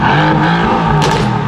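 A Mercedes-AMG GT R 4-litre twin-turbo V8 engine revs loudly and continuously, a deep burbling growl rising and falling close by.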